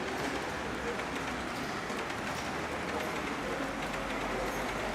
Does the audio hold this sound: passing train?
yes